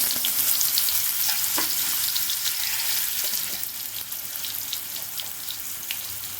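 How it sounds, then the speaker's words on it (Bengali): Potatoes frying in hot oil with a little salt, a steady loud sizzle with faint crackles throughout and no talking. "আমি আলুগুলো ভেজে নিচ্ছি।"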